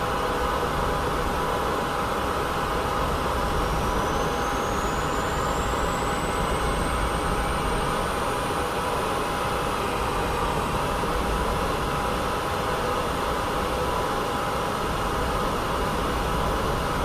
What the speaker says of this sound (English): Engine start sounds are still amazing.